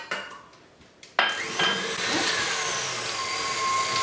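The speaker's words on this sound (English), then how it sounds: "Careful when you switch the mixer on, you don't want it to go too fast." An electric hand mixer switches on partway through and runs steadily, beating eggs for a gluten-free pear upside down cake batter, a loud continuous whir with a rising pitch after a brief quiet start.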